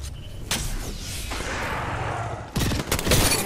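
Gunfire in the video game Apex Legends, played as Wraith: sharp bursts of rapid shots break out, pause under a lower rumble, then resume in a loud closing volley, with no talk.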